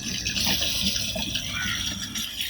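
Water runs in a steady, hissing stream from a water filter during cleaning, continuous and close with no pauses.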